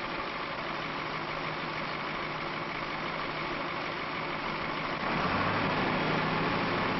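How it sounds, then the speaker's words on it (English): Machine engine idling while warming up, a steady mid-pitched diesel-like drone with constant vibration that deepens and grows slightly louder near the end. "While he waits for the engine to warm"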